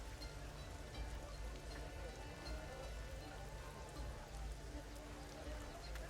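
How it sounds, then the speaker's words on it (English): Steady rain falling, a dense continuous hiss and patter that stays even throughout, fairly faint and heard alone. "May we come in out of the rain?"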